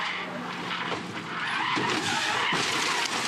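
V8 ute race cars crashing at the Gold Coast beach chicane, a loud rush of engines and skidding tires with squealing, followed by a harsh scrape and impact.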